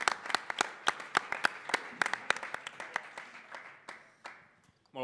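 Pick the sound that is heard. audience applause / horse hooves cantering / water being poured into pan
audience applause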